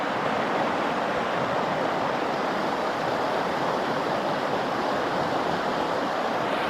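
Steady, dense rush of a fairly deep but slow-moving mountain creek, constant and close throughout with no voices.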